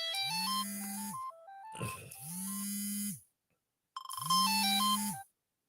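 Phone ringtone for an incoming call plays a bright electronic melody in three bursts, the last after a short silence, heard clearly on its own with no talk.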